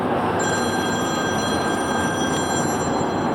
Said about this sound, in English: Wait a second, I'm getting a phone call now.